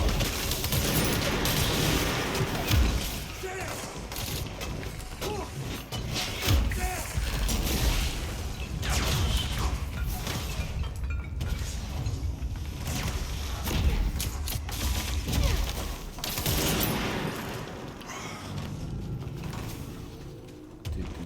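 Gunfire in the video game Control, The Foundation expansion, with dense rapid bursts of shots and mechanical impacts running almost continuously over a busy game soundscape.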